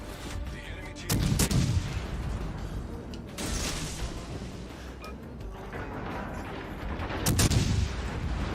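Warship main guns firing in the naval game World of Warships, heavy booming salvos rolling out over a steady roar of battle ambience, with louder blasts near the start and end.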